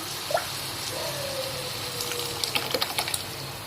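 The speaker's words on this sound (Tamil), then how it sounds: "அந்த பருப்பை வந்து இதில் ஊற்றிக்கலாம்" Cooked toor dal is poured into a pan of brinjal kootu, a soft, faint liquid pour and splash followed by a few light clinks of a vessel or spoon near the end.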